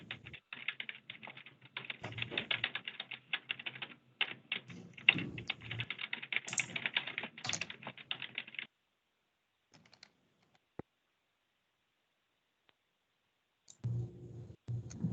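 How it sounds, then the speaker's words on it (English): Faint, fast clicking of typing on a computer keyboard in the background of a video call, in irregular bursts for several seconds, then a long quiet stretch with a few stray clicks before a last short burst. "Hearing more typing."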